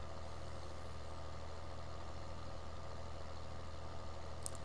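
Tractor engine in the Farming Simulator 2013 video game, a steady low droning hum that runs unbroken at an even, moderate level with no voices.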